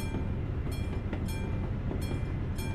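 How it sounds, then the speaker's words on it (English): European train in the video game Euro Truck Simulator 2 passing close by, a loud continuous rumble with rhythmic clickety-clack wheel beats, no talk. "I love European train sounds in this game."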